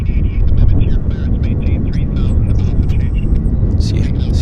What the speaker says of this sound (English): So got a WestJet on the roll.